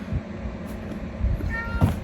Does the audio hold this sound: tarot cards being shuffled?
no